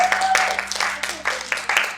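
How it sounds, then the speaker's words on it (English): A church congregation applauds singer and musician Jennifer after her song, with a run of distinct, fairly close hand claps at moderate loudness over about two seconds. "Let's give Jennifer another big round of applause"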